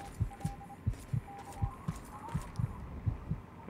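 In Fallout 3, a Morse code radio signal plays as a couple of brief runs of thin beeping tone above a steady, heavy, low throbbing beat, like a slow heartbeat, with no talking.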